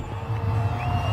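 Stadium crowd at a cricket match at Sai Krishnan Cricket Stadium, Muddenahalli, roaring in delight after a six, a sustained loud wash of cheering with scattered whoops across the whole moment.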